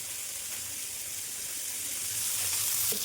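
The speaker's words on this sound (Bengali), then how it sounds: "আমি একটা একটা করে দিয়ে ফ্রাই করে নিচ্ছি" Spices and capsicum frying in white oil for a chicken samosa filling give a steady, dense sizzle that swells slightly louder near the end, with no voices.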